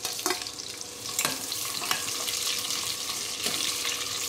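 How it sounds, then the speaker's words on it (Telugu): Chopped onion and a tempering of seeds sizzle and crackle steadily in a hot pan, with occasional scraping stirs, while a faint trickle of water runs in the background. "చూడండి, ఇవి వేగిపోతున్నాయి."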